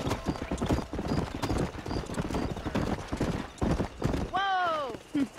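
In Red Dead Redemption, a horse's hooves clip-clop in a rapid galloping rhythm throughout, close and clear, and a loud whinny rises near the end. Talk runs over the riding.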